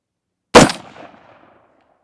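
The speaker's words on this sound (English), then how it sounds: "Okay, so we've taken our first shot" A single rifle shot with a Burris thermal scope mounted, one sharp loud report followed by a short fading echo tail, otherwise silent.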